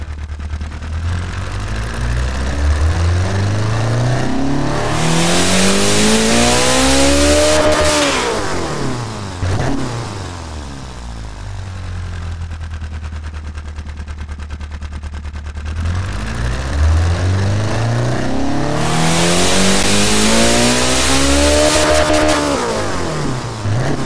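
Loud simulated SR20DET engine revving in two long dyno runs in the game Automation, pitch climbing to a high scream then dropping, with a lower idle between the pulls, no talking.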